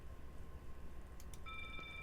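In a video game, a security alarm is rearmed with a short run of electronic beeps and steady tones that come in near the end over a faint background hum.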